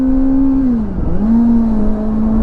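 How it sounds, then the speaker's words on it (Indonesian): Kawasaki Ninja ZX-25R motorcycle fitted with a Japanese WRS racing exhaust, a steady loud engine drone that dips briefly mid-clip as the revs fall and then settles back to a constant hum, close by with no voices. "knalpot racing saya ya, yang saya beli kemarin ini"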